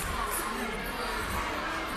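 A basketball crowd at a FIBA 3x3 Asia Cup game between the Philippines and Thailand lets out a dense, sustained wash of oohs, aahs and chatter in an arena, steady and fairly loud throughout.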